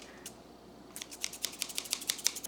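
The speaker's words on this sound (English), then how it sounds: "I will just cut that with my herb scissors" Herb scissors snipping fresh basil leaves, a quick run of about eight light crisp snips in a steady rhythm, close but quiet.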